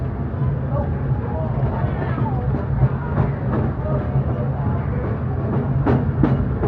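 Disneyland Railroad train running along its rails at the park, a steady close rumble of wheels and cars rolling on, with faint crowd voices in the background.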